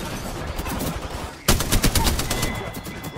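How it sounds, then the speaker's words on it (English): Rapid gunfire from a video game firefight, a dense burst of shots that grows louder and sharper halfway through, with continuous battle noise filling the background. "Getting shot at."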